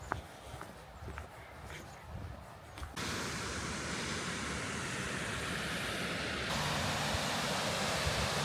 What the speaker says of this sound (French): La première cascade de la journée.